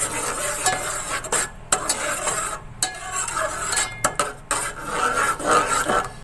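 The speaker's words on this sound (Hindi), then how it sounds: "अब इस पेस्ट को इस सॉसेस के साथ आप मिक्स कर दें।" A spoon scrapes and stirs chili paste into soy and chili sauces in a pan, producing steady close rasping and soft clinks with a faint sizzle underneath and no talk.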